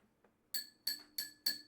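Ceramic teacups clink together four times in a steady rhythm, each strike bright and ringing, close and clear, preceded by a couple of softer taps.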